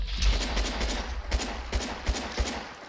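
Gunfire in Fallout 4 VR with immersive mods, a series of heavy, booming shots at irregular intervals over a rumbling background, with no voices.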